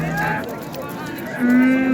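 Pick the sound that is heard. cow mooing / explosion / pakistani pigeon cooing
cow mooing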